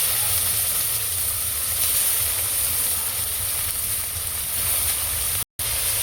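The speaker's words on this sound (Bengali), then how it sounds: "তেলেই আমি ফুলকপি ভেজে নেবো" Cauliflower florets frying in oil already used for frying pomfret fish, giving a loud, continuous sizzling hiss with one brief dropout near the end.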